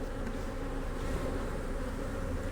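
Nurse bees on a hive frame during a swarm cell transplant and split, giving a steady low hum that stays close and even throughout, with no voices.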